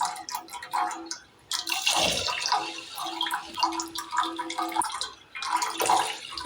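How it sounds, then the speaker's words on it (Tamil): Water splashes and trickles steadily into a pot of rice and lentils, with a few drips and light clinks, close up and fairly loud, no talking. "அதே கிளாஸ் அளவு ரெண்டு கிளாஸ் அளவு தண்ணி சேர்த்துக்கலாம்"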